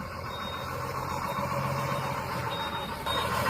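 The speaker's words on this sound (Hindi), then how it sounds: "मेरी गाड़ी खड़ी है यार, ट्रक निकल रहा है।" A truck pulls away outside a jungle resort near Jim Corbett, its reversing alarm beeping in a steady, faint, high-pitched series over a constant engine rumble and outdoor background noise.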